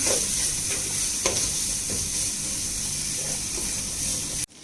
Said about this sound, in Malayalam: അത് നമുക്ക് നമ്മുടെ ഓയിലേക്ക് ആഡ് ചെയ്ത് കൊടുക്കാം. ഇളക്കാം.